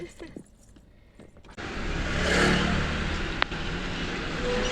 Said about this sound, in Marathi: आता ट्रॅफिक एक कॅब चालू आहे